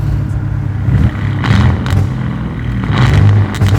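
A 1,000HP twin turbo AMG V8 car rumbles and revs, a loud, steady low engine drone swelling in a few surges, heard close with no talking.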